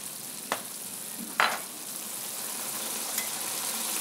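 Pumpkin stir-fry seasoned with pepper and sesame oil gets stirred in a hot pan: a soft, continuous sizzle with a few sharp utensil scrapes and taps against the pan.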